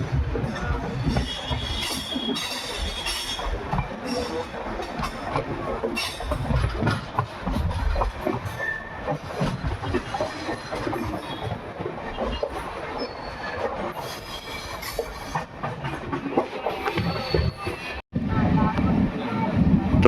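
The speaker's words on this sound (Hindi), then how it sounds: "तो यहाँ से डिपार्चर हो रहा है ट्रेन का" Dayodaya Express train departing on the Ajmer to Kota line, wheels rumbling on the rails in a steady dense roar with faint clatter and occasional squeal, a voice talking over it.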